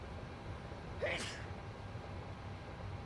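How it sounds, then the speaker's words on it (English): A single passenger sneeze from the Aerotone sound add-on in Microsoft Flight Simulator 2024 aboard an A320 cabin, one brief burst heard faintly in the background over a steady engine hum. "So the sneeze you could hear in the background is from Aerotone from SoFly."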